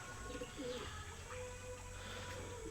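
Pigeon cooing in a Filipino pigeon loft as a bird lands, low repeated coos carrying steadily through a continuous background hiss with faint chirps.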